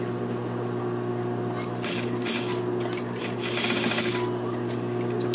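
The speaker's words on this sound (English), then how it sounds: "stitch down as far as you can. And when you get to the bottom, back stitch" A sewing machine stitches a jacket hem lining with a steady close mechanical whir and a brief faster burst of stitching partway through, with no voices.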